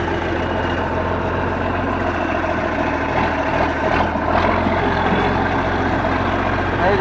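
A John Deere 4630 farm tractor's diesel engine runs steadily close by, a constant heavy low rumble with a slight swell in the middle, heard alone.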